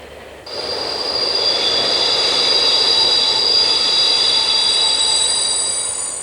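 A French X 4300/4500 "Caravelle" diesel railcar rolls past close by with a steady roar, a high metallic wheel squeal ringing above it throughout.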